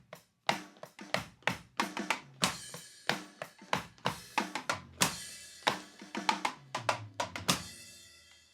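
Rubber pads of an Artist EDK924M electronic drum kit struck in silent practice mode give dull, quiet tapping hits in a steady rhythmic pattern, about two to three per second, with no amplified drum sound.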